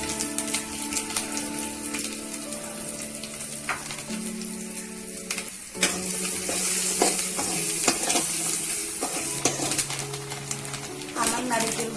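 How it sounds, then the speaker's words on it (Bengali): Grated coconut fries with turmeric in a pan for vegetable khichuri, a steady sizzle with intermittent stirring scrapes and clinks, faint birds cooing in the background. "আমি নারকেল কুচিগুলো হলুদ দিয়ে ভেজে নেব"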